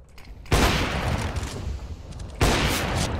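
Heavy gunfire bursts in CS:GO, a wallbang headshot: a loud blast opens a dense, roaring volley that fades slightly, then a second powerful burst hits near the end.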